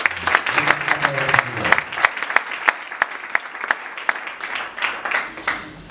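A church congregation in Durban claps and cheers together, a dense run of applause with steady sharp hand claps, preceded briefly by a voice speaking and singing over it.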